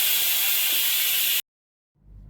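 A pressure cooker cooking rice lets out a loud, steady, close steam hiss that cuts off abruptly, followed by a low, quieter rumble.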